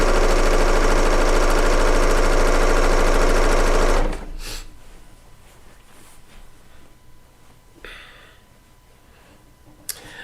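A serger sewing machine stitches quilt fabric, running loud and steady for about four seconds before stopping abruptly, leaving a quiet room with a few faint clicks and handling sounds.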